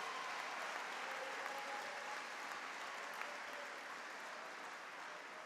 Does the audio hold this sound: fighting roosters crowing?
no